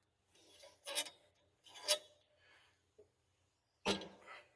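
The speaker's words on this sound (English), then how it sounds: "So now we can just crank down on these until this pops off" Metal rasping and grinding from C-clamps being cranked down on a 1955-56 Packard vibration damper, in three short strained bursts, the last opening with a sharp crack as the damper pops loose, close up.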